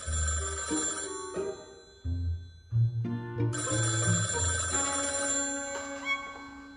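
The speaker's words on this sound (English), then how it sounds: "And the phone rings." A telephone bell rings in a quiet room, loud and close, its repeated ringing bursts standing alone with no talk over it.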